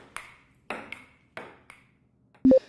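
Table tennis ball ping sound effects: several short, bright, separate ticks spaced unevenly and fairly close, then a louder, thicker tonal hit at the end, with no voices.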